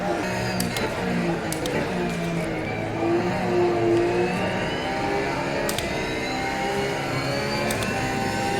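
A Porsche race car in the Rennsport racing video game drives along an American highway track. Its engine drones loudly and continuously, pitch rising and falling through gear changes, with a few sharp clicks and no talking over it.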